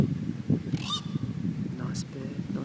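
A bird calls outdoors with two short honking, goose-like notes about a second apart, set against a murmur of outdoor background noise.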